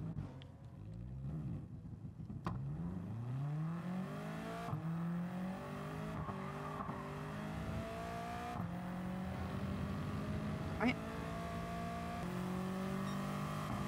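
A Nissan Silvia S14 with a race exhaust in a racing video game revs and climbs through the gears, its engine note rising again and again after each shift, loud and alone.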